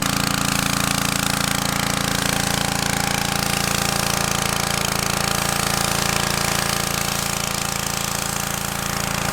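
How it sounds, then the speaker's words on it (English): A pressure washer blasts hard at concrete at a building site, a loud, steady, unbroken roar of motor and spray, close and constant throughout, with no talking. "So I can already see Abel hitting that spot real hard with the pressure washer."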